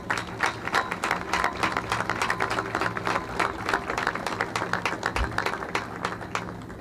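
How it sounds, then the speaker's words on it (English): Audience applause rings out at a naval change of command ceremony for the USS John S. McCain, a steady, dense patter of many hands clapping that continues throughout at moderate volume. "Can we get another round of applause for our fantastic speakers today?"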